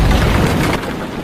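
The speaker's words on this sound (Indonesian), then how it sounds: "Nedenov langsung melepaskan tembakan hingga tank Panzer itu pun hancur" A tank cannon fires in a war film, a single loud, close boom that destroys a Panzer tank and rolls off into a short, rumbling decay.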